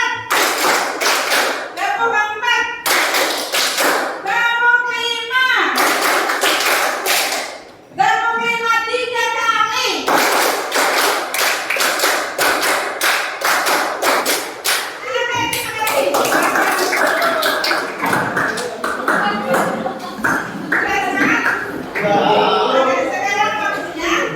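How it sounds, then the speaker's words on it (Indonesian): Rhythmic hand clapping in counted groups in a classroom-style lesson, sharp bursts of claps alternating with a spoken voice counting, loud and close with short gaps between groups. "Tepuk 2. Tepuk 3. Tepuk 4. Tepuk 5."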